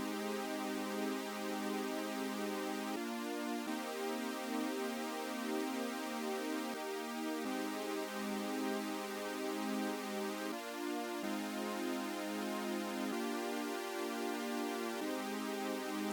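Sustained synth chords on a keyboard, played as chord inversions for an electronic dance track, a smooth held pad changing voicing every few seconds in a steady, even progression with no voices.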